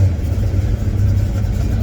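A Ford 351 Windsor V8 in a Notchback runs with a steady, deep, loud engine rumble close by, holding even without clear rises in pitch.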